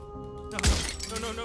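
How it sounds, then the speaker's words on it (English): Glass mirror shattering in the video game Slay the Princess: one sharp crash near the middle, loud and close, with a low boom beneath the breaking glass and a tinkling tail over a background game score. "el estruendo de un vidrio que estalla"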